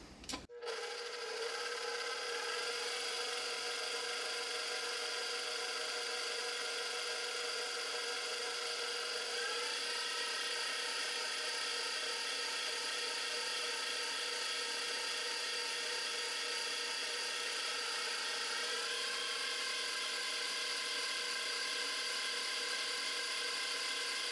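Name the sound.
mixer with whisk attachment running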